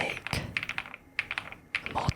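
Keys clack on an Epomaker Galaxy100 mechanical keyboard, a close, quiet run of crisp individual keystrokes in short irregular bursts with brief pauses between them.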